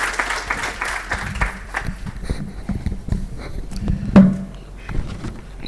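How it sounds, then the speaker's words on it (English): A symposium audience applauds after a talk, scattered, fairly sparse clapping with uneven individual hits rather than a dense roar, tapering off over several seconds with some room noise. "and ask for this applause."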